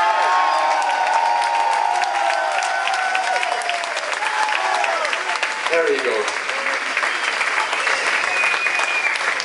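A concert crowd at a metal show at The Roxy in Argentina applauds and cheers loudly and steadily for the whole stretch, with whoops rising through the clapping and a voice speaking briefly over it.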